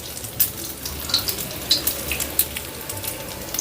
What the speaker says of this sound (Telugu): మరొక్క స్పూన్ నూనె వేసాను నూనె కాగిన తర్వాత కొంచెం మినపగుళ్ళు వేసాను కొంచెం జీలకర్ర ఆవాలు